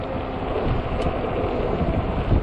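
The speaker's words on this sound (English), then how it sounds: "Oh, that wind is horrible." Strong wind buffets the microphone on a 20-inch 48V fat-tire e-bike during a ride, a steady, loud roar with gusts that holds for the whole stretch, no talking.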